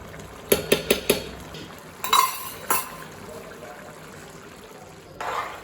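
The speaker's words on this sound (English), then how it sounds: "Mix well." Chicken pulao rice with ghee is stirred in a pot, with a few quick metallic clinks of a spoon against the pot, then scattered scrapes and knocks over a quiet background.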